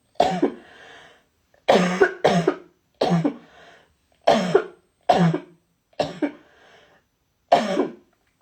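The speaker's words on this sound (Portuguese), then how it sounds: "minha tosse tá ruim agora, peraí" A person with a bad cough coughs hard and repeatedly up close, about nine harsh bursts in irregular succession separated by short quiet gaps.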